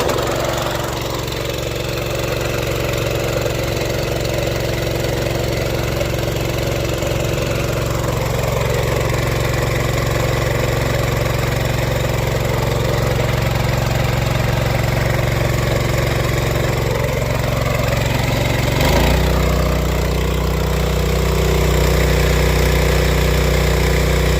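A homemade DC generator engine runs at half throttle, a loud, steady, close drone that shifts to a deeper, heavier tone near the end as the load changes.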